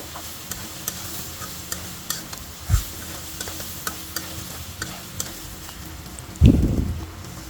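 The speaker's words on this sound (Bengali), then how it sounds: "এবার আমি পরিমাণ মতো ঝোল দিয়ে দিলাম ভালো করে নেড়ে ছেড়ে" Jackfruit seed and shrimp curry being stirred in a pan, light scraping ticks and a soft simmer throughout, with one louder clatter near the start and a heavier knock near the end.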